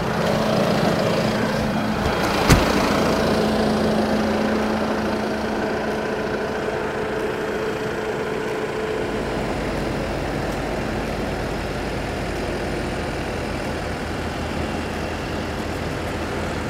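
Deutz 6.4 tractor engine idling nearby outdoors, a steady low rumbling drone with one brief sharp knock early on, staying even throughout.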